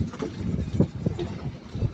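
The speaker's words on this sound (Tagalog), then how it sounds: "Kasi malakas ang hangin." Gusty wind roars and thumps against the microphone beside a boat on an island, a continuous low rumble with irregular stronger blasts throughout.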